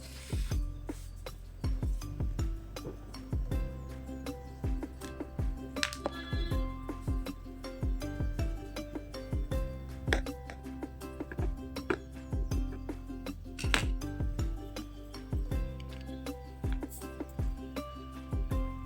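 A knife cuts through an eggless home-made plum cake baked on a dosa tawa, giving a long run of evenly spaced light taps and clinks against the pan, close and fairly quiet.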